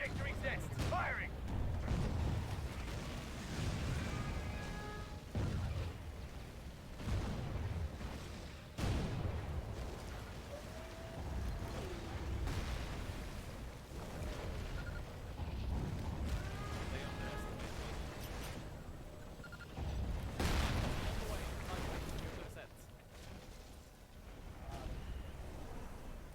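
Artillery firing in the real-time strategy game Rise of the Reds, heard as several muffled booms spread across a busy battlefield soundscape. A voice talks intermittently over the action.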